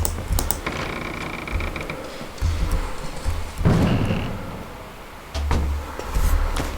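A door swings shut in a first-person horror game set in an ordinary house in the woods. Several dull knocks and clunks land over a low rumbling background, with one louder, fuller thud near the middle.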